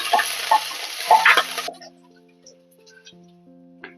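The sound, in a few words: curry leaves sizzling in hot oil with garlic and onion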